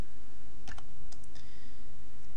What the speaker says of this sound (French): La combinaison de la touche majuscule et des touches fléchées droite et gauche me permet de sélectionner au clavier.